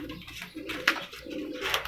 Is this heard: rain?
no